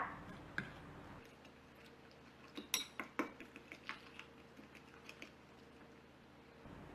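A utensil beats ingredients with fish sauce and acacia shoots in a bowl, giving a quick run of light clinks and taps that fade after a few seconds.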